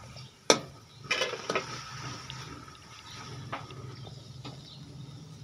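Spices being stirred into a frying mixture of shredded cabbage and chicken in a little ghee, with soft sizzling and a few sharp spoon clanks against the pan, close and intermittent.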